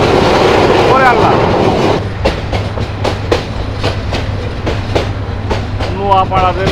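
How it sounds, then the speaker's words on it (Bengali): Paharika Express train rattling loudly on the rails, a dense rumble that gives way to steady rhythmic clickety-clack beats from the wheels over the joints, with faint squeals near the start and end. "মানে এত হড়হড় ঘড়ঘড় শব্দ"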